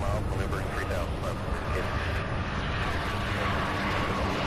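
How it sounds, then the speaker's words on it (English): An American Airlines passenger jet, 17 years old, landing on runway 35 left at Louisville airport, heard as a steady, loud, broadband roar of engine noise and wind that fills the clip without letting up. "American Airlines 4654, landing now on 35 left"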